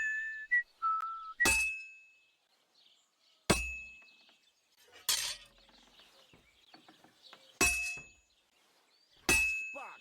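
Hammer striking hot metal on an anvil in the video game Kingdom Come Deliverance 2, five sharp ringing metallic clangs spaced a second or two apart, each with a bright lingering ring, plus a short whistled tune at the start.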